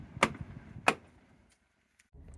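A worn door check strap on a 2018 Tesla Model Y with about 110,000 miles, heard as the door is moved: two sharp clunks close together, then a fainter tick before the clip goes quiet.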